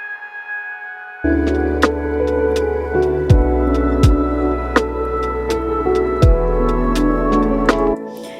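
A layered synth pad from a music production plays alone: sustained chords swell in, with soft percussive ticks and low notes shifting every second or so, then cut off near the end.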